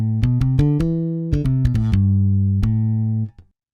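Ample Bass P virtual electric bass playing a short line of plucked notes with its sustain noise switch set to 100%, leaving a noisy, buzzing tail under the held notes before the sound cuts off near the end.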